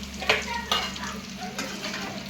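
Country chicken fries and sizzles in a pan while a spoon stirs it, with a steady crackling hiss and a few sharp scraping strokes, close and moderately loud, no voices.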